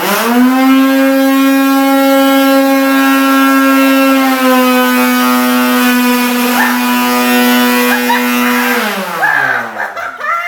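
A wet/dry vac unclogging a drain roars loudly with a steady droning whine that holds level, then its pitch drops and wavers near the end, alone and close.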